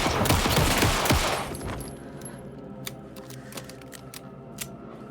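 Dense burst of rapid gunfire in the survival horror game Alan Wake 2, loud for about a second and a half, then fading into quieter ambience with a few scattered sharp clicks and ticks.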